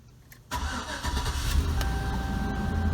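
A 2004 Chevrolet Silverado with an irregular ignition system cranks and fires up nearby, the engine catching after a brief starter whir and settling into a steady, rumbling idle.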